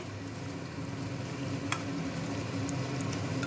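Chicken frying in hot oil with torn and whole dried red chilies and a large tomato, giving a steady, dense, close sizzle that carries on without a break and with a few faint clinks over it.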